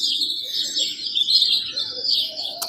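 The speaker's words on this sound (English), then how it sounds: "And then you have like a forest, you have the birds." Forest birdsong ambient sound from an AIRIVO sunrise alarm clock: dense, steady high chirping and tweeting from several birds, moderately loud and continuous without talk.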